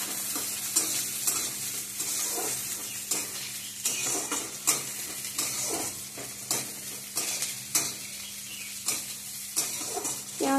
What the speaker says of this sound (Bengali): তারপরে এখন আমরা দিব পেঁয়াজ কাটা, এগুলো ভালো করে নাড়ে নেব।